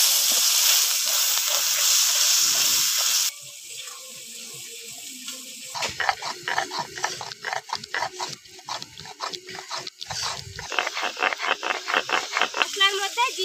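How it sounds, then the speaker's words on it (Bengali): Masala of salt, turmeric and chili powder fries in a pan for a Bengali pomfret curry. A steady sizzling hiss comes first, then crackling, spluttering bursts follow after a little water is added, with a voice talking over it. "সামান্য একটু জল দিয়ে দিচ্ছি।"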